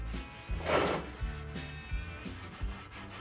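Steady hand sanding of a vintage metal chair, a rough rubbing scrape repeated in uneven strokes, close by, with a low rhythmic thumping underneath and no talking.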